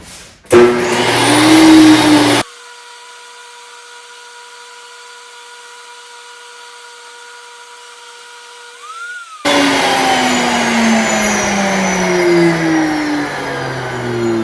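A grain mill grinds grain with a loud, harsh whir that runs for about two seconds, stops during a long stretch of faint steady electrical hum, then starts again and keeps going near the end.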